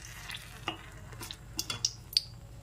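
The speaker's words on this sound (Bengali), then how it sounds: "ভেজে তুলে নেওয়ার পর বাকি তেলটা কড়াইয়ের মধ্যে দিয়ে দিচ্ছি শুকনো লঙ্কা।" Dry red chillies sizzling in leftover hot oil in a wok for a Bengali fish curry, with soft frying hiss and a few light clinks of a spoon against the pan, faint and close, no talk.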